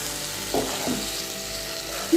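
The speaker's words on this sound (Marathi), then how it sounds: "जे मशरूम आपण कट करून घेतले आहे ते आता याच्यात मिक्स करूया। 3 ते 4 मिनिट आपल्याला हे परतून घ्यायचं" Mushrooms being stir-fried into a masala gravy in a pan for a dhaba-style mushroom masala, giving a steady close sizzle with a few brief scraping stirs.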